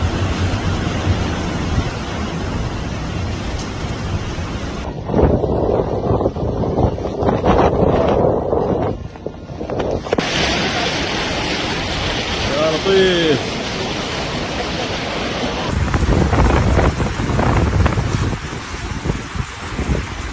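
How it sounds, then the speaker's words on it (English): Heavy rain lashing down in strong, gusting wind, a loud, steady roar with wind buffeting the microphone throughout. "this situation caused heavy rain accompanied by active winds and hail"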